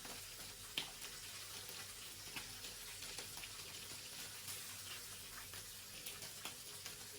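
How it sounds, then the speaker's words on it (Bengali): Tengra fish fry gently in a pan over low heat, giving a faint, soft sizzle with scattered small pops and crackles and no talking. "আস্তে আস্তে কম জালে আমি অনেক সুন্দরভাবে মাছগুলো ভেজে নিব।"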